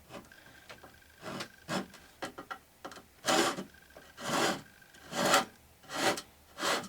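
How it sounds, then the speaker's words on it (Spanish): A file rasps back and forth across the wood of a kitchen drawer, with long scraping strokes in a slow, uneven rhythm that grow louder and fuller toward the end, close up and with no talk. "empiezo cortando, como si fuera cortando y limando al mismo tiempo"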